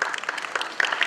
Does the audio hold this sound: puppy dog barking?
no